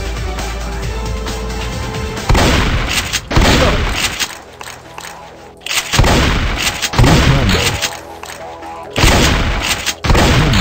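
A shotgun fires in the video game Super Cops Targets: about five loud, booming blasts at irregular intervals, each with a brief echoing decay between shots.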